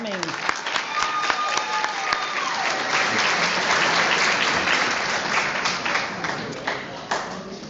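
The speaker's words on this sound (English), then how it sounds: "One more round of applause." Banquet-hall applause at a chamber of commerce annual awards banquet, a full crowd clapping steadily throughout, swelling in the middle, with voices and a brief whoop faintly mixed in.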